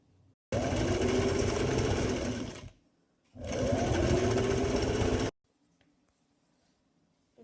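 A sewing machine stitches a fabric border along the end of a sleeve, running in two steady bursts of about two seconds each, separated by a brief pause and ending in near silence.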